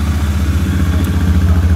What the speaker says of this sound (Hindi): आइए इसको स्टार्ट करके मैं दिखा देता हूँ कि इसका एग्जॉस्ट नोट कैसा है